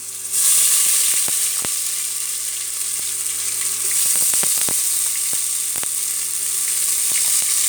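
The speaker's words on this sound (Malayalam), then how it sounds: "ഇനി അതിലേക്ക് ആവശ്യമായിട്ടുള്ള ഇഞ്ചി വെളുത്തുള്ളി പേസ്റ്റാണ് ചേർക്കുന്നത്" Ginger garlic paste fries in a hot pan while cooking aloo paratha, a loud, steady, close sizzle broken by sharp clicks and taps of a stirring utensil.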